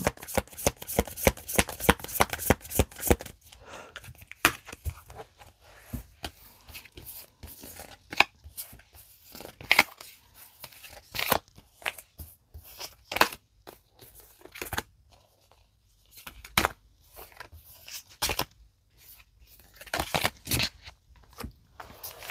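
Tarot cards shuffled for an eight-card spread, a fast riffling burst at first, then scattered crisp card flicks, slaps and rustles at close range with uneven gaps, no talking.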